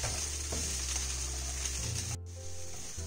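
Bitter gourd fry sizzling steadily in a pan while being stirred with curry chili powder, a continuous close frying hiss with occasional scrapes, no voices.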